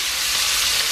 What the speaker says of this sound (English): I'm up here frying some bacon.